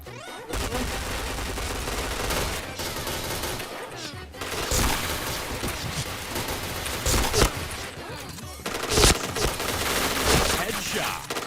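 Dense, rapid gunfire from a mobile shooter game, with bursts of automatic shots and single cracks crowding the whole stretch, loud and continuous with brief gaps.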